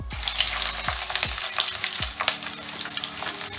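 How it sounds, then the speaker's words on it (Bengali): Chopped onion frying in hot refined oil with whole spices, a steady broadband sizzle with a few stirring knocks and scrapes, close and fairly loud throughout. "পেঁয়াজটা হালকা করে ভেজে নেব।"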